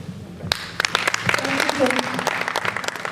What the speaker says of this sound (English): Let's give a round of applause to Madam Aleki McCarthy.